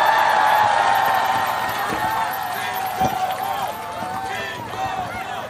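A large crowd at a Korean election campaign rally cheers and claps, a dense roar of voices and applause at close range, slowly tapering off.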